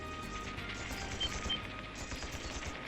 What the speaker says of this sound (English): Sounds like gunfire.